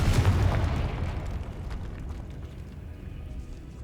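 A Confringo spell blast in Hogwarts Legacy: one loud, deep booming explosion right at the start, then a long rumbling tail that fades out over a few seconds.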